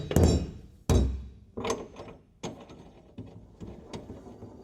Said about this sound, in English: Now, with the brackets bolted on, this is how the mount slides into them.